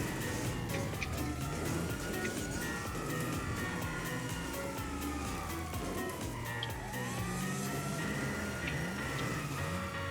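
Wailing police car siren in the GTA 5 video game, several sirens sweeping up and down continuously and loudly over rumbling engine and traffic noise throughout.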